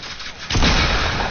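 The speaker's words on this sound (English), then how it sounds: "Oh, he just started shooting." Gunfire in a video game erupts suddenly after a quieter stretch, a dense, loud burst of shots that keeps going without pause.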